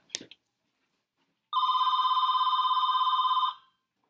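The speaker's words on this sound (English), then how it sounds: "forgot about the fax machine" A fax machine rings indoors with one sustained electronic bell tone lasting about two seconds, loud and clear, following a few brief clicks and knocks, with no talking.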